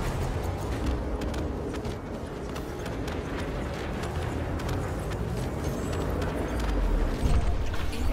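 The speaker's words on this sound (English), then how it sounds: "Love the explosions and that in this game." Steady rumbling blasts and crackling debris from ship explosions during Elite Dangerous space combat, a dense continuous roar that swells slightly near the end, with no speech.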